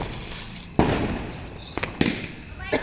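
Two sharp Diwali firecracker bursts crack close by, about a second apart, each followed by a crackling, fizzing tail.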